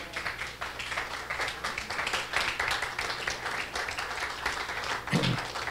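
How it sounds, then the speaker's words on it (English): Continuous applause from a large seated audience at a retirement-planning conference as people stand, dense clapping steady throughout with a slight swell near the end. "And they call that a standing ovation."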